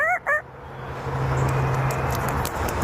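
A talking parrot imitates a rooster's crow, two short rising calls near the start, then the room noise carries on with a steady low hum.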